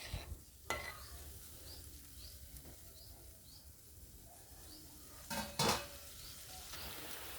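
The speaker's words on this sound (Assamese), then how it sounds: "মোৰ চব্জিখিনি উতলিছে" A paneer and potato curry with extra water simmering in a pan, giving a soft steady bubbling, with a few sharp utensil knocks and stirring clatters partway through.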